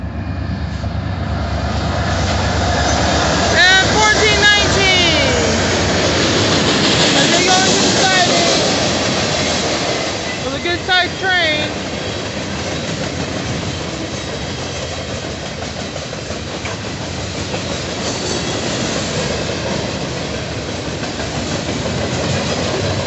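Union Pacific local train led by locomotives 1347 and 1419 pulling into a siding, a loud, sustained diesel rumble with horn-like tones midway, then fading slightly, with a voice talking over it.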